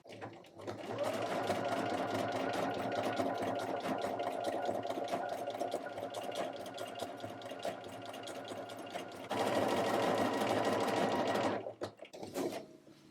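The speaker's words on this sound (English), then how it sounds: "I'm going to run my decorative stitch row right down the center" A sewing machine stitches a decorative row using a pintuck foot, a rapid even mechanical whir that runs for several seconds, shifts in pitch briefly near the end, then stops.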